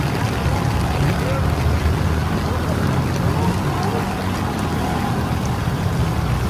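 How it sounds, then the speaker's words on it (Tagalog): A motorcycle tricycle engine drones steadily as it climbs, a constant rough rumble mixed with wind and road noise, with people talking over it. "Kaya pa naman ng motor, kaya pa ng tricycle,"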